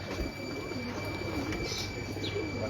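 Breeder pigeons on a Lahore rooftop coo softly and steadily against a constant hum of background noise, with a few faint chirps.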